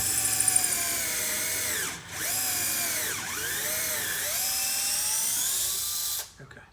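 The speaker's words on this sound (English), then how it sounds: "it recommends that you drill a pilot hole here using a 5/16 inch drill bit" Electric drill with a 5/16 inch bit bores a pilot hole for a lag bolt while a box newel is installed, a loud, close, high-pitched whine that dips in pitch twice under load and then cuts off.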